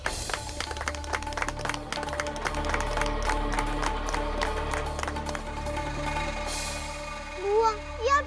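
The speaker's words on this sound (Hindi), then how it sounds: "ताली बजाकर हम इस विधवा का अभिनंदन करते हैं।" Applause for a widow at a gathering, a run of scattered hand claps at moderate loudness with voices talking over and after it.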